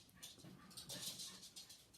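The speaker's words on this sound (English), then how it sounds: "the dogs can keep barking" Dogs nearby give faint whimpers and yips in quick scattered bursts, quiet and somewhat distant in an indoor room.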